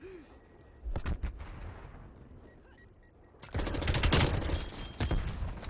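Gunfire in the video game Black Ops Cold War: a few sharp shots early, then a dense, loud burst of rapid automatic fire over the final two seconds.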